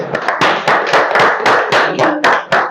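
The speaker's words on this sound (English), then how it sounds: "Clap for yourself." A group claps loudly and close at a classroom-management seminar, joining together in a fast, uneven burst of sharp hand claps.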